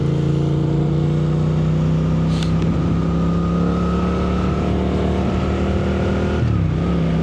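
A motorcycle engine drones steadily on the road with a sustained hum and rising and falling revs, a brief higher burst near the middle and a drop in pitch toward the end. No one speaks.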